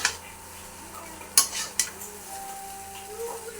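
Chicken chow mein being stirred in a pan, with a few sharp clanks of utensil against metal and faint scraping, over a low background hum and no talk.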